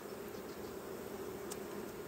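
Honeybees hum steadily as a coastal beehive is opened for the first time in the season, a constant soft buzzing drone with no pauses and no one talking.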